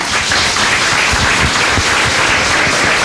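Loud, dense applause from a crowd thanking the mayor and welcoming the archbishop, a continuous steady clatter of many hands throughout.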